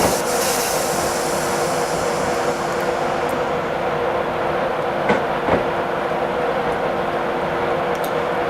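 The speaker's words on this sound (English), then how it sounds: "I'm going to allow the train to coast into the station" A passenger train in Train Simulator 2017 coasts into a station platform with a steady rolling rumble and hum, a few faint clicks and brief squeaks rising over the continuous track noise.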